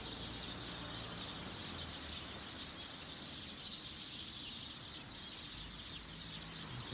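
Sparrows chirp continuously in a dense, far-off chorus at an evening roost in Tsukuba, Japan, a steady high twittering over low background rumble with no talking.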